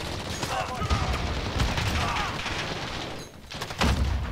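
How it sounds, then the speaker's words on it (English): Gunfire in the video game Call of Duty: Modern Warfare crackles in several quick bursts of rapid shots, fairly loud, with brief pauses and a muffled thump near the end. "who, who is shooting?"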